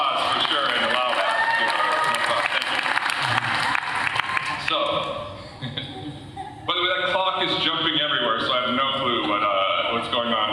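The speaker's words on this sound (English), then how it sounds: "Yeah, you can clap." An audience breaks into sustained applause, dense clapping with some cheering, dipping briefly in the middle before swelling again, with voices audible among it.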